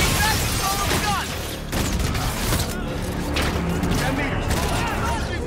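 Heavy gunfire in Call of Duty: Infinite Warfare as captured guns fire on a fleet, with dense repeated booms and bursts over a loud continuous battle din.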